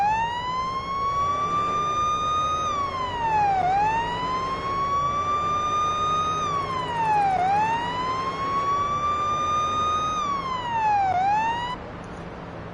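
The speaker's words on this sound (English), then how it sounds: "This is the regular siren right here." A loud police siren wails steadily, rising and falling in long sweeping cycles, then cuts off abruptly near the end.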